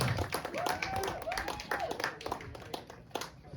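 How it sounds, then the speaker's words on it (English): An audience claps along at a comedy night in Shipston-on-Stour, quick uneven hand claps mixed with stamping feet and crowd voices as the comedian is called to the stage. "Can we clap our hands?"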